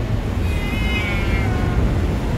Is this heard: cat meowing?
yes